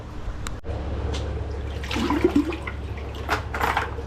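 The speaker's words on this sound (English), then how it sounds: "So now we can top this up with pond water." Pond water is poured to top up a savanna monitor's tank, making a steady, close rushing and gurgling of water that swells midway, with no talk.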